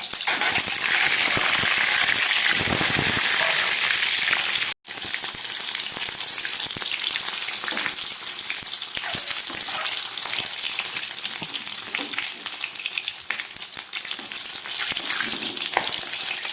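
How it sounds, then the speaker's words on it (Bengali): Eggs seasoned with salt and turmeric fry in hot mustard oil, giving a loud, dense, continuous sizzle and crackle with a brief break partway through. "এবার এই ডিমগুলো আমি একটু ভেজে নেব।"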